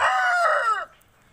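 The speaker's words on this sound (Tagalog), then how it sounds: "magulo naman tong manok na tong ingay" A rooster crows once, loud and close, a long harmonic call that rises, holds and then drops away into quiet.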